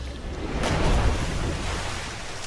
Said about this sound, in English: now we are at the river Ganga